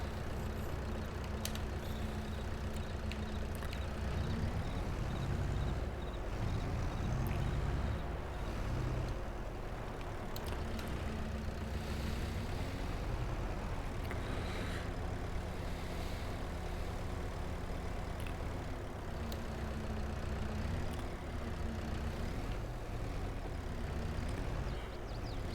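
A used modded tractor engine running in a farming video game, a continuous low diesel drone that rises and falls slightly with throttle, steady and fairly quiet with no talk.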